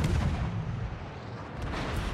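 Heavy destroyer gun salvos in a naval warfare video game featuring the Kagero, a dense booming rumble that stays loud and continuous throughout with no talk over it.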